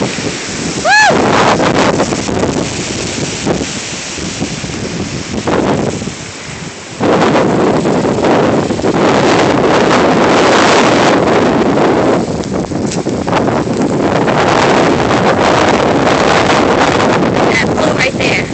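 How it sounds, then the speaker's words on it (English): Strong hurricane winds from Hurricane Sandy batter trees, a loud continuous roar of gusts buffeting close by, with someone shouting and talking over the storm. "Trees are blowing heavily."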